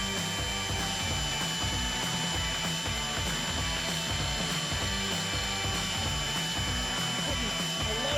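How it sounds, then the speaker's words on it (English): A power drill bores into steel with no pilot hole under heavy pressure, giving a loud, steady, rhythmically pulsing mechanical grind that carries on without a break. "Let's try and drill one without a pilot hole."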